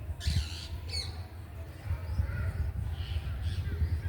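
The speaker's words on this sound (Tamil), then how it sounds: "எல்லோரும் அங்கிட்டு பறவையெல்லாம் சாப்பிட வந்துட்டாங்க" Crows and other birds squawk and caw around a small rooftop flower garden where they come to feed, with several sharp bursts of calls early and fainter scattered caws over a steady low background rumble.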